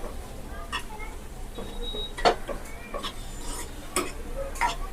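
A spoon stirring momo filling in a pan after pepper and soy sauce are added: light scraping and tapping strokes at an uneven pace, with a faint sizzle and a person speaking over it.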